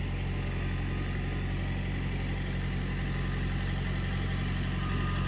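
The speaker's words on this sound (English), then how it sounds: "I love that little tiny tractor because it's not making such a wide row." A small tractor engine runs steadily while driving along a garden row, a continuous, low, even chugging hum at moderate level with no pauses.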